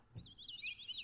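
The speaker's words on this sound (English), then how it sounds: "birds," A synthesized bird chirping preset on a Kawai MP7SE digital piano plays a quick series of high, trilling tweets after a soft low thump, faint and brief.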